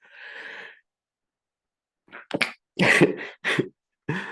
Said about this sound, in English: so I'm just about to sneeze